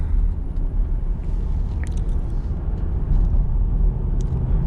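Holden Statesman with an LS1 V8 engine rumbling steadily from inside the cabin while driving, a loud continuous low drone with no talking.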